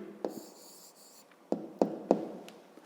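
A pen writing an answer by hand on paper, with a short scratchy stroke early on and then several distinct taps and scrapes in quick succession, close and quiet with no talking.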